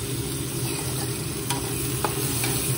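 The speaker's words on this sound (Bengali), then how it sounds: "এখন আমি এতে গাজর আলুটা অ্যাড করে দিচ্ছি, দিয়ে এটাকে আমি ভালো করে ভেজে নিচ্ছি" Carrot and potato frying in hot oil with onion and garlic, a steady dense sizzle and hiss close by, with a couple of faint clinks of a utensil.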